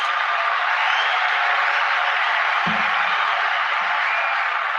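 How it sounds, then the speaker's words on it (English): Steady, dense applause from a large crowd fills the whole stretch at an even level, with a brief low thud partway through. "let's give everybody a round of applause"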